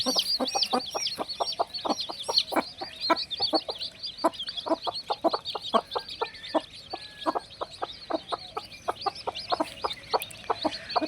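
Newly hatched chicks on a poultry farm cheep in a dense, continuous high chorus while a hen clucks in short repeated bursts underneath, all fairly faint with no talk.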